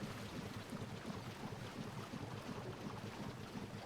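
Sailing boat moving over water in the Book of Travels video game: a continuous faint wash of wind and waves with a soft low rumble, steady and without voices.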